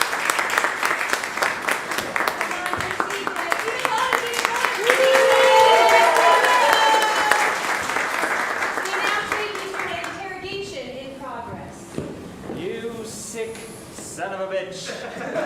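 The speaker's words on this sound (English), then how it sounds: "let's give him a round of applause" Audience applause at a live comedy improv show: a dense, sustained crowd clapping that swells midway and then thins out, with a host's voice and scattered crowd talk breaking through toward the end.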